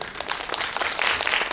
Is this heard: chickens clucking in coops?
no